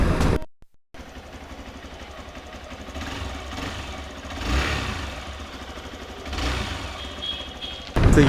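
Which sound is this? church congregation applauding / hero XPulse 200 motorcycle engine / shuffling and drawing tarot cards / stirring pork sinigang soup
hero XPulse 200 motorcycle engine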